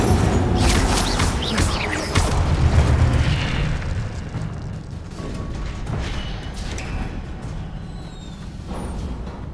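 Incendio fire spell cast in the video game Hogwarts Legacy, a loud sustained whooshing roar of flame and booming bursts layered with other game effects, continuing through the whole stretch without talk.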